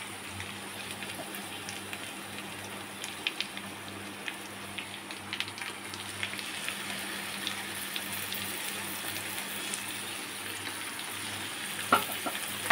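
Desi chicken pieces go into hot oil for a spicy curry, giving a steady low sizzle and soft frying crackle throughout, faint and even with occasional small pops.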